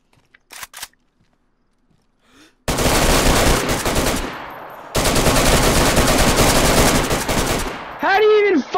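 A weapon fires in a video game: a few faint early shots, then two long, loud bursts of rapid automatic fire, followed by a short whirring tonal effect at the end.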